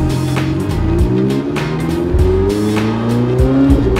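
A $4.5 million open supercar with no windscreen pulls away on a Perth street, its engine revving loud and close through rising gear pulls with brief tire chirps and shifts.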